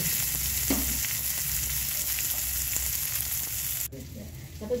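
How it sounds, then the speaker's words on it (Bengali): Chopped onion fries in a pan, a steady close sizzle with occasional stirring scrapes, dropping quieter near the end; no talking. "একটা বড় সাইজের পেঁয়াজ কুচি দিয়েছি। দিয়ে ভালো করে এটা ভেজে নেব।"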